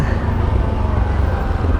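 Constant traffic rumble from cars crowding the one-way streets of a growing Philippine town, a low steady drone of nearby engines with no clear individual pass-by.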